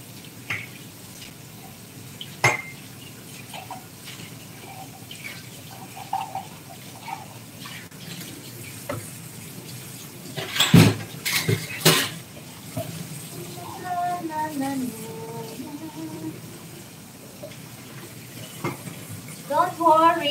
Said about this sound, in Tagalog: Hugasan ko lang itong mga pinagkapihan namin, agahan namin.